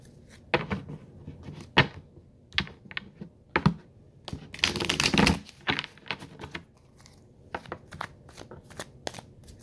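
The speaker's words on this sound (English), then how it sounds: "Want me to shuffle?" Close, crisp riffling and snapping of tarot cards being shuffled, in irregular bursts with one longer flurry in the middle, no voices.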